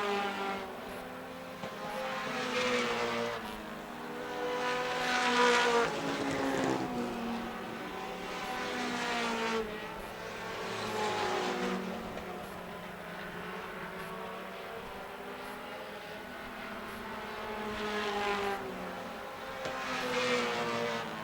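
Outlaw mini race cars circling a track, engine drones swelling and fading in repeated passes as cars go by, moderately loud at a distance with no voices.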